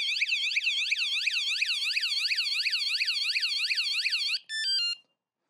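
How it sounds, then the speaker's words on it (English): An Aventon Aventure electric bike alarm wails loudly and alone in a rapid, repeating rising-falling siren pattern for over four seconds, then a short burst of stepped beeping tones before it cuts to silence. "so very loud alarm"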